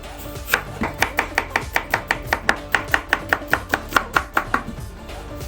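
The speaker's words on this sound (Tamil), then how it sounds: "இப்போ நம்ம வெங்காயம் வெட்ட போகிறோம்." A knife chops onions on a cutting board in about eighteen sharp, evenly spaced strikes. The taps are close, crisp and rhythmic, with no one talking.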